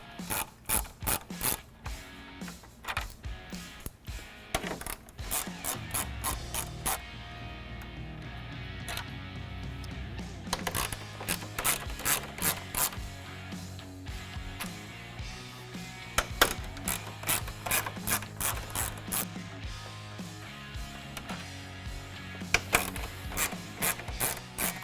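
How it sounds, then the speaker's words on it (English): A ratchet fitted with a 10mm socket backs out the screws along the front of a 2020-2021 Super Duty grille, with rapid clicking bursts, brief pauses and rubbing between strokes, close and clear with no talking. "grab your ratchet with a 10mm socket, and we're going to remove these 6 screws going along the front side of the grill"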